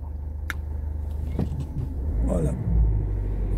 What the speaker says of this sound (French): Il y a une voiture qui nous suit.